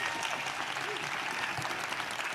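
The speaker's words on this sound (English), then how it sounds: "let's give her a round of applause" Steady audience applause fills a room at a real estate talk, a dense, even wash of many hands clapping from start to finish with no pauses.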